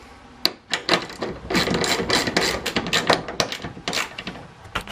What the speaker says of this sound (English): We're gonna tighten that.